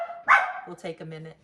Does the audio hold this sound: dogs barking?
yes